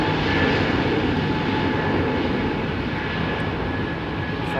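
An Air Canada Boeing 777 twinjet spools up and begins its takeoff roll at Heathrow, a steady broadband engine roar heard from a distance, unbroken and without talk.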